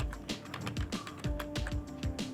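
Quick, light keystrokes on a computer keyboard come in a steady patter of soft clicks, close and quiet, with no speech over them.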